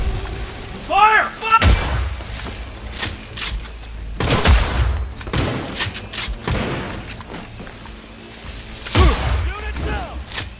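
Heavy gunfire and booming artillery blasts in a Cyberpunk-style shooter battle against Arasaka, arriving in several loud bursts a few seconds apart with rolling rumble between them, and shouted voices mixed in.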